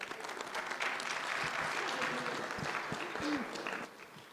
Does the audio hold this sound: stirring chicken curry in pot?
no